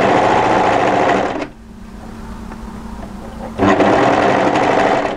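Sewing machine stitching an underarm seam of a funnel neck crossover sweater, a loud steady whirring run that stops for about two seconds, leaving a faint hum, then resumes.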